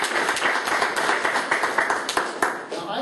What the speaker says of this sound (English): Give Rob a round of applause.